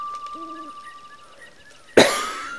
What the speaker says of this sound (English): Sorry about all the coughing.